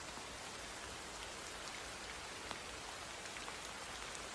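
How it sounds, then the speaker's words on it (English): Soft, steady rain falls on leaves, a quiet, even patter of drops with no voices. "The sound of the rain falling on the leaves."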